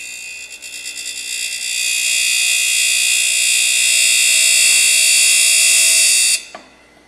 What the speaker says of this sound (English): follow the same procedure as before and sharpen the secondary angle